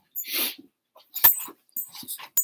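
A dog recovering from surgery makes a few short, sharp noises like huffs or yelps, separated by brief silences and heard close by, with no talk over them.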